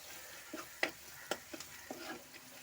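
Sliced onions sautéing in a pan for a spicy Kerala-style egg dish, with a soft steady sizzle broken by several sharp clicks and scrapes of a spoon stirring, close and fairly quiet with no talking.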